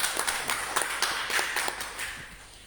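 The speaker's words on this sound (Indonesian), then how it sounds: "Mari kita tepuk tangan untuk ketiga calon." Scattered applause for three village head candidates at a campaign event, with sharp irregular claps from a small crowd that thin out and fade toward the end.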